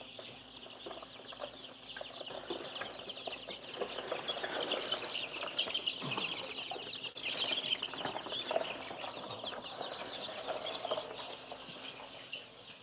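Chickens clucking inside a chicken house alongside baby chicks, a dense steady chorus of clucks and chirps with occasional wing flapping, moderately close throughout.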